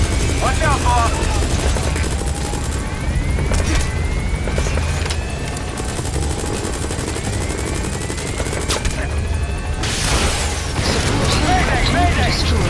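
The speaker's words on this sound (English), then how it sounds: "Shot down the chopper." A helicopter roars overhead in the video game Metal Gear Solid V while gunfire bursts and booms cut in, loud and chaotic, with voices talking over the action.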